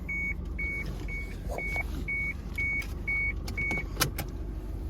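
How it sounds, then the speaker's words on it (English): Seatbelt warning chime in a 2020 LDV T60 Pro ute cabin, a steady series of eight short, evenly spaced electronic beeps over a low idling hum, with no talking. "that's beeping. I don't have my seatbelt on."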